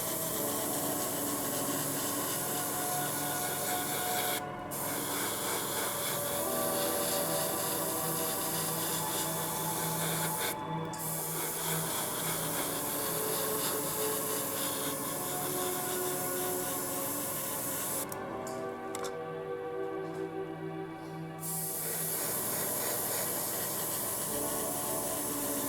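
A spray airbrush applies a thin coat of paint onto a paper towel while building a 1/24 scale ICM Opel Admiral Saloon model kit, a steady continuous hiss lasting throughout with a few brief pauses.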